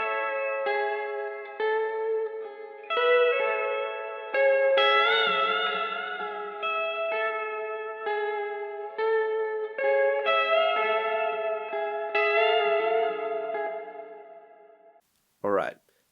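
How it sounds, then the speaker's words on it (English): Slowcore electric guitar through an amp with extra reverb on the master channel, playing slow repeated chord strums that ring out and overlap in a washy tail, ending with a short sharp burst. "we're using the exact same amp settings, just with a little bit more reverb on the master channel"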